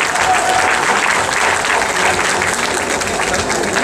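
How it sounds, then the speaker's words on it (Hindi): A large audience in an Indian political assembly claps continuously and loudly to welcome an opposition leader, a dense steady wash of applause with faint crowd murmur and no clear speech. "हमारे विरोधी दल के नेता ताली बजाकर उनका स्वागत करें"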